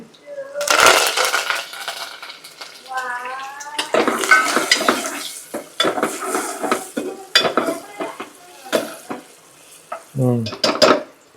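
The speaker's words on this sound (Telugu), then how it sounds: "కరివేపాకు వేస్తున్నానండి" Curry leaves and dried red chilies crackle and sizzle loudly in hot oil in a home kitchen, with bursts of spattering, a ladle scraping and stirring, and a short pan clatter near the end.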